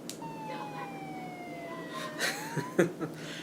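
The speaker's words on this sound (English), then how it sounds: "they have the police siren" A police siren wails in a steady tone that glides slowly downward, heard at moderate loudness over a low background hum, with a few short thumps and bursts of noise near the end.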